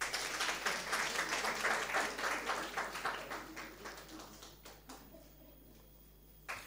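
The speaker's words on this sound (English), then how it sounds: "Clap for Mrs. Marsh." An audience at a school debating competition applauds the chief judge: a burst of many hands clapping at full strength that gradually thins and fades out over several seconds, with a final lone clap.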